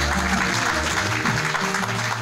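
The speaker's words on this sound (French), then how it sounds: "On applaudit très fort." A conference audience applauds steadily with a dense, continuous wash of clapping, and a few voices murmur underneath.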